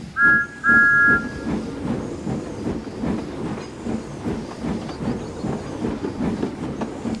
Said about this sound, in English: Later, Thomas puffed into the station with Annie and Clarabelle.